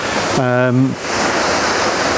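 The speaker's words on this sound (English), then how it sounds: "just up above the waterfall" A waterfall in a stream near a dipper nest gives a steady broadband rush throughout, with a brief tonal voice-like sound rising over it near the start.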